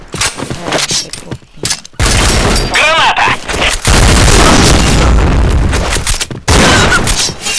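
Loud booming grenade blasts in a video game (Point Blank) erupt in bursts, several heavy explosions with crackling debris and a brief whistling tone between them, dense and close.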